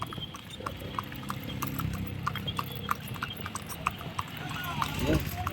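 Horse-cart hooves clip-clop steadily at a trotting pace in Palani, fairly faint, with cart rattle and low background murmur.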